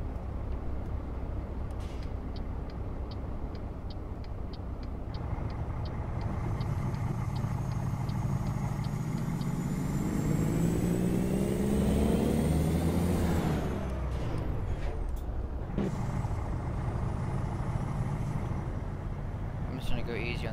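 A Kenworth W900 truck pulls away in 8 high, its diesel engine droning and rising steadily in pitch before easing off, with someone talking over the engine throughout.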